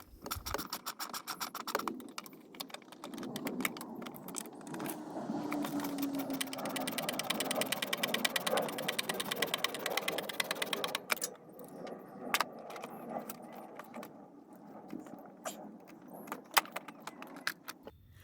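Two 10mm bolts being removed by hand to reach a car's fuel filter, with a dense run of metallic clinks, ratchet clicks and jangling tool rattles, close up, then sparser taps and clanks.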